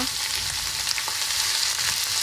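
Spices and asafoetida sizzle in hot oil in a pan for an okra curry, a loud continuous close frying hiss with light stirring, no talk.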